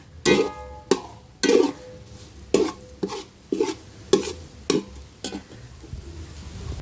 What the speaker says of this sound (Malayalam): ഉപ്പ് ഇട്ട് ഇളക്കി ചേർത്ത് കൊടുക്കാം